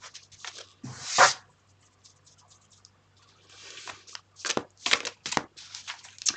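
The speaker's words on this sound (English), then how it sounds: "I'm going to start shuffling the cards." Tarot cards being shuffled by hand, a run of soft papery riffles and taps in short bursts with quiet pauses between, close and alone without talk.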